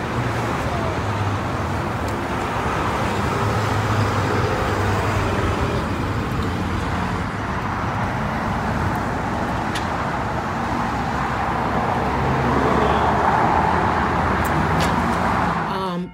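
Steady, loud road traffic with cars and larger vehicles rumbling past continuously, recorded around the time of a rear-end car crash, with no clear impact standing out.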